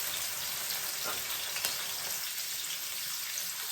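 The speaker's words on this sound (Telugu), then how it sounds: "ఈ ఆనియన్స్ అనేది బాగా ఫ్రై అయిపోవాలి." Onions fry in hot oil for a fish curry, giving a steady, soft, close sizzle with a few faint crackles and no voices.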